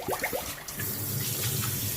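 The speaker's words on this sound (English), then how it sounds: "So you just rinse it out good. Put a little bit of water on it." Tap water runs and splashes over goat meat with burned skin as it is rinsed at a sink, a short, close, continuous stream with uneven splattering.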